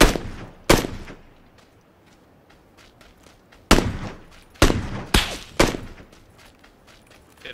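SKS rifle gunfire in a video game: single loud, sharp shots spaced irregularly, several in close succession toward the end, each with a short decaying tail.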